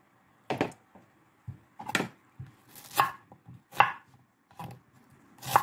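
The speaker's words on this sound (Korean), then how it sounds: "이거는 갈아서 쓸 거니까 잘게 잘라줄게요." A knife finely chopping onion on a cutting board, sharp distinct chops in irregular bursts, close and clear against a quiet background.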